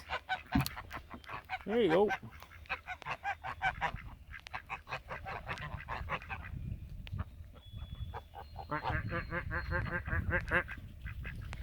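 A flock of geese honks repeatedly outdoors, loud rhythmic bursts with ducks quacking among them, close by, while a person briefly speaks.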